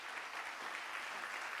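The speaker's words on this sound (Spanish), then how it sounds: "Denle un fuerte aplauso al Señor y tome su lugar." Church congregation applauding at a Sunday service, a steady, dense wash of clapping that stays even and sustained throughout, with no voices standing out.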